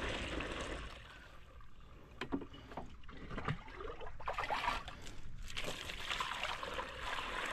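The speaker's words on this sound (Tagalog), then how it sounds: "Ayun yung ilog dito sa amin pinababaw ngayon." Shallow river water flowing outdoors on a sunny day, a steady broadband wash with light trickling and sloshing close by, occasional small splashes rising over the continuous flow, no voices.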